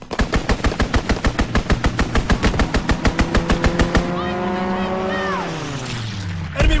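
Rapid strafing gunfire from an aircraft in Call of Duty WW2 on PS4, a loud, steady machine-gun burst lasting about four seconds, then a diving engine roar that sweeps down in pitch.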